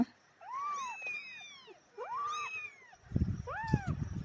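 A mother cat meows loudly and insistently, calling her kittens: three long rising-and-falling cries spaced about a second apart, close and clear, with some handling noise near the end.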